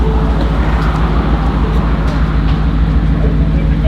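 A 1000 bhp Ford Mustang drives along with a steady, loud low engine drone and road roar, heard from inside the car with no breaks in the sound.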